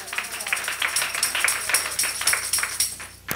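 A church congregation claps hands during a sermon, a steady run of many overlapping claps close by, loud and rhythmic, with no talk over it.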